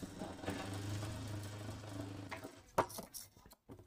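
Sewing machine stitching the edge of a lehenga: a steady low motor whir with a rapid needle rhythm for about two and a half seconds, then it stops, followed by a few clicks and handling sounds.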